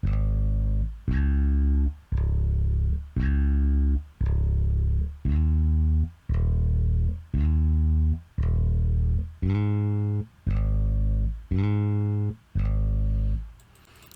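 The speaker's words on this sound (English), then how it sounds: "So the bass sounds like this." Synth bass line from an FL Studio breakdown of an Afrobeats track, playing loud, evenly spaced sustained notes in a steady repeating rhythm with no voices.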